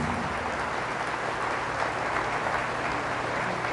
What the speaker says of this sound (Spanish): Fuerte el aplauso a la palabra de nuestro Dios y Salvador Jesucristo.